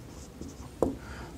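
Chalk or marker writes briefly on a board during a physics lesson, a short scratchy stroke heard close and quiet.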